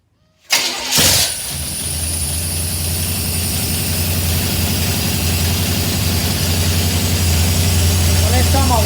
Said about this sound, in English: That should start your engine up.